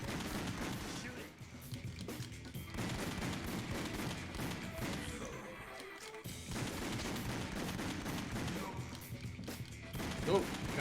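Rapid bursts of video-game gunfire crackle through a dense, busy mix of shots and explosions, steady and loud for the whole stretch with no clear pauses.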